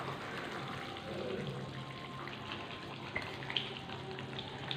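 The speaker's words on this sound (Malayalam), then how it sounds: "ഇനി ഇതിലേക്ക് നമ്മൾ നെല്ലിക്ക നേരത്തെ നമ്മൾ വേവിച്ചിട്ട് ഇതേപോലെ ഒന്ന് റെഡിയാക്കി എടുത്തിട്ടുള്ള നമ്മുടെ നെല്ലിക്ക" Cooked gooseberries for Kerala pickle sizzling and frying in a hot pan, a steady crackling hiss with a few small pops and stirring noises.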